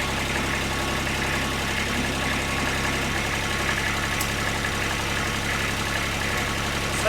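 Toro Reelmaster 3100D reel mower engine idling just after startup, a steady, rough low-pitched diesel-like rumble with even rhythm throughout, close and moderately loud with no voices.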